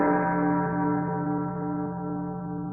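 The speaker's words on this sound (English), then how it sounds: "we heard the church bell tolling for a long time." A church bell tolls with a sustained, rich harmonic ring that slowly decays, loud and clear with no other sounds around it.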